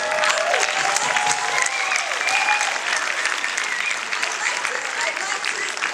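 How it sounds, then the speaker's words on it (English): Loud, continuous applause from an awards ceremony audience at a youth finance summit, thick and sustained, with voices faintly mixed into the clapping. "Big applause."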